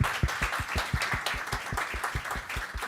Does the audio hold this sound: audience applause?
yes